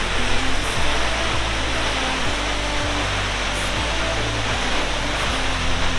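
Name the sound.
waterfall with ice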